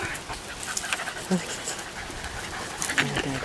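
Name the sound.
dog panting near a dog pool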